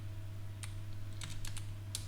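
A few scattered, quiet keystrokes tapped on a computer keyboard while writing Python code, with small clusters of clicks over a steady low electrical hum.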